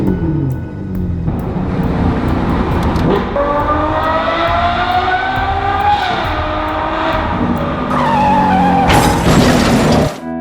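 A Ferrari revs loudly with rising engine tones and tire noise, then crashes near the end in a sharp burst of shattering glass and impact, close and harsh with no voices.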